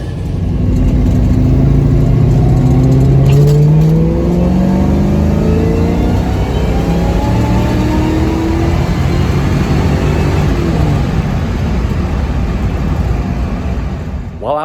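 Ford Mustang Foxbody under boost on the road, heard from inside as the engine revs up through rising gear pulls, a loud steady drone with whining harmonics sweeping upward.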